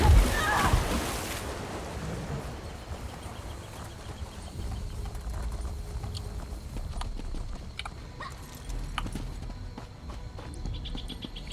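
Steady hoofbeats of a horse mount being ridden in the video game Elder Scrolls Online, a continuous clip-clop rhythm running throughout over background game ambience.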